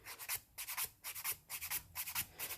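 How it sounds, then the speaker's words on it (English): An acrylic nail is filed in quick, rhythmic rasping strokes, about five per second, faint and close with no voices. "because you're filing your nail plate"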